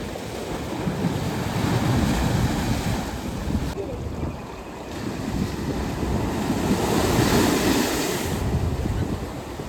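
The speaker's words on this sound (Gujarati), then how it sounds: "મોટા મોટા મોજા આમ ઢેખડ સાથે ભટકાય છે." Big sea waves crash against the rocks near a seaside cave shrine, a loud, continuous roar of surf with gusting wind over the microphone and swells rising and falling throughout, no voices.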